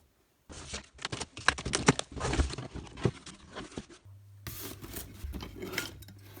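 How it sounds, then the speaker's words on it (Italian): Parkside wood router packaging being opened: close rustling, rubbing and tearing of cardboard and plastic as the seals are cut, in irregular bursts with a steady low hum during the final seconds. "adesso apro la confezione tagliando i sigilli e vediamo il contenuto"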